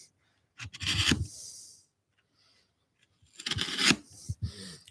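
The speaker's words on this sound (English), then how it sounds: "using the chisel and you push it along, almost like a knife" A hand chisel pushed gently along by hand to pare the corners of wooden parts for a bird box, heard as two short scraping, rasping cuts separated by a quiet pause.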